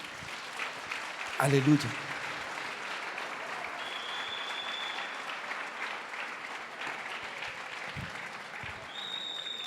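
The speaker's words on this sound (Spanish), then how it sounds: "dele una ofrenda de palmas a Jesús" Church congregation applauding as an offering to Jesus, a broad steady wash of clapping throughout with a brief louder burst near the start, while the pastor speaks over it.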